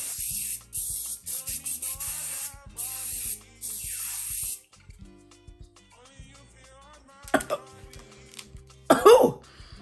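Several short bursts of hairspray from an aerosol can hiss close by, one after another with brief pauses, followed by quieter rustling and a couple of coughs.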